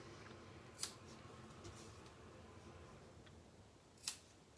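Scissors trimming the end of a knotted cord or ribbon at a craft table, two sharp separate snips about three seconds apart over a quiet room background.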